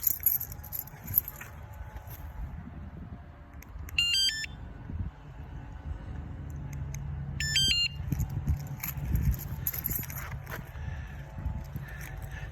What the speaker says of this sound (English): Let's see if we can get the alarm to work.